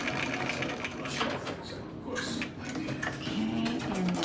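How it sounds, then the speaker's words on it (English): Close up, a sewing machine top stitches over ribbon on a small pacifier leash, giving a continuous rapid needle whir with slight shifts in pace, and faint speech murmurs underneath. "go ahead and top stitch right over the ribbon"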